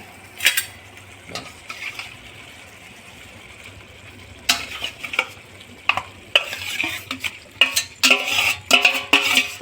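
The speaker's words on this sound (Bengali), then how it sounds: "এখন চিকেনগুলো দেওয়া হবে।" Chicken pieces frying in a pan for a home-cooked dish, with a low steady sizzle broken by sharp clattering bursts of stirring and utensil scraping that grow busier toward the end.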